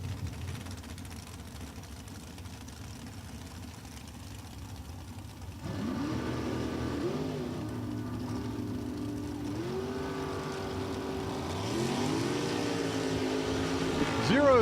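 A 582-cubic-inch Super Comp drag car on a McIlvain chassis roars down the strip at a raceway, its steady engine drone rising in pitch as it shifts through gears, heard at a distance under a commentator's voice.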